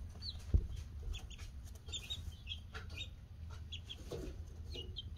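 Baby Polish chicks cheep and cluck in short high chirps scattered over a low hum, close by and fairly soft, with no talking.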